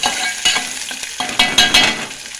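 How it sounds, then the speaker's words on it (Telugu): Chopped onions and curry leaves fry in hot oil for a beans curry, hissing and sizzling up close while a spoon scrapes and stirs through the pan in repeated rough strokes. "ఈ విధంగా ఆయిల్ వేడయ్యాక కట్ చేసుకున్న ఉల్లిపాయ ముక్కలు వేసుకుందాము. ఉల్లిపాయ ముక్కలు, కరివేపాకు వేసుకుందాము,"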